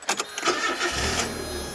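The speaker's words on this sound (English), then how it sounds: "Start the car, let's pop the key in." A Mazda Eunos 1.6 NA6CE car engine starting: a short burst of starter cranking catches within about a second and settles into a steady low idle, heard close and fairly loud.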